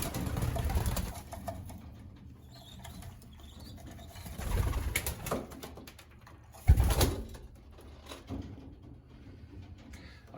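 Pigeons coo and shuffle inside a breeding loft, soft low cooing rising and falling in several bursts at close range, with a brief louder flutter or knock partway through and no one speaking.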